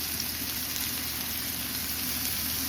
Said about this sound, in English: we're going to brown it on both sides only